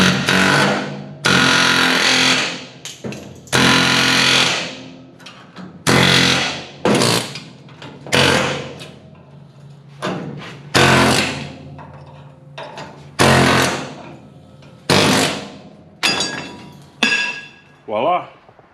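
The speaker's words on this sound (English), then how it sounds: "You just come in, you just chisel her loose." Air chisel cutting old rivets loose on a Chevrolet C10 truck during a lowering kit install, loud bursts of hammering rattle in repeated one- to two-second runs separated by short pauses.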